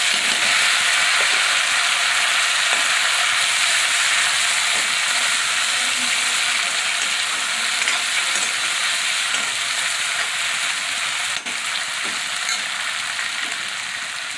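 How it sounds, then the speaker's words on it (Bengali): Crushed tomato, ginger and green chillies frying in a pan for masoor dal pakoda, a strong steady hiss of sizzling oil with occasional faint stirring clicks, close and constant. "টমেটো আর কাঁচা লঙ্কাটা দিয়ে দেবো।"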